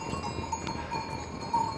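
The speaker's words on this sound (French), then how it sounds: "Dans l'alpage de Souvre du Milieu avec les vaches." Cows wearing cowbells in an alpine pasture in the mountains: faint, scattered clanks of the bells ring out over a soft outdoor background, with no talking.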